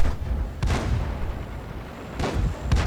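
Tank cannon shots in the World of Tanks video game, a few heavy booming blasts spaced apart over a rumbling battlefield background, loud and close with no talking.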